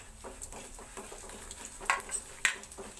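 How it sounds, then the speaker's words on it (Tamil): Mustard seeds splutter and pop in hot oil in a home kitchen pan, giving a soft sizzle with a few sharp crackles and a stirring scrape, no talking. "கடுகு வந்து பொரிஞ்சிட்ருக்கு"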